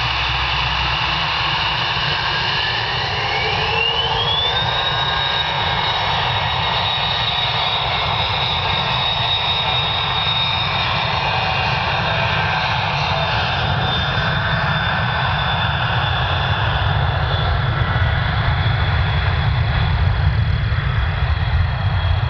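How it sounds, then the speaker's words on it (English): A Falcon 2000 business jet takes off at an air show, its engines roaring loudly and steadily throughout, with a rising whine and a broad rumble that swell slightly as the aircraft climbs away. "And the Falcon Jet 2000."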